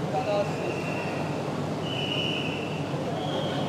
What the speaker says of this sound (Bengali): আমি দাঁড়িয়ে রয়েছি কলকাতায় প্রথম লোকাল এসি ট্রেনের একদম সামনে।